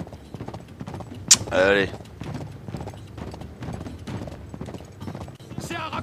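Horse hooves clip-clop in a steady galloping rhythm in the video game Uncharted 3, alongside a short whinny-like burst, mostly under continuous French-speaking voices.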